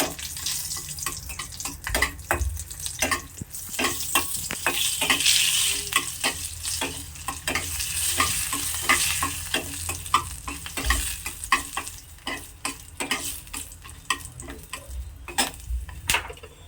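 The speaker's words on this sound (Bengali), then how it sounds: "এখন আমি ফোড়নের জন্য 2টো শুকনো লঙ্কা দিয়ে দেব।" Dried red chillies and a bay leaf hit hot oil as a tempering for bottle gourd and split pea dal, giving a steady close sizzle broken by frequent clicks and scrapes of stirring, with no talking.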